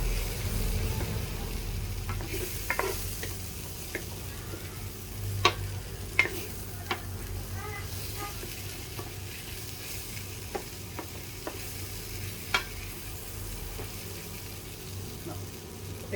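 Spaghetti sauce ingredients fry in oil in a pan, a low continuous sizzle broken by scattered clicks and scrapes of stirring, close by and fairly quiet.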